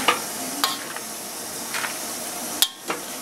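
Fettuccine with chicken and broccoli is stirred in a pan, with a steady soft sizzle and several sharp scrapes and clinks of a utensil against the pan.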